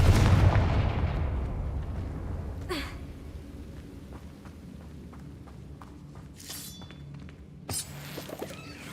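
A fire spell blasts in the Hogwarts Legacy video game, a loud booming burst at the start that fades into a low rumble, followed by a few softer thuds and game effects.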